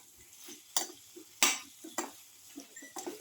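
Garlic beef and okra sautéing in a pan, with soft sizzling and a few scraping stirs and clinks that stand out against a quiet background.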